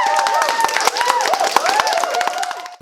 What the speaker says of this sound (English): come on, applause together